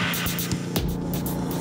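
A Suzuki Intruder M1800R V-twin cruiser engine throbs and roars through a brief, loud burst of acceleration, with heavy low-end pulsing and wind rush throughout.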